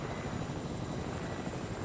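A helicopter in the video game Fortnite drones with a steady, dense rotor whir, loud and continuous through the clip with no voices.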